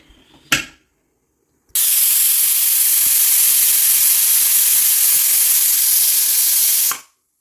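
A pressure cooker on the stove, cooking bitter gourd curry, vents one long, loud, steady steam whistle-hiss lasting about five seconds after a brief clatter, then cuts off abruptly.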